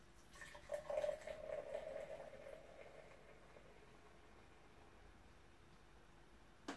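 Pale ale is poured flat into a glass, a soft, quiet liquid trickle and fizz lasting a couple of seconds before fading to a faint hiss.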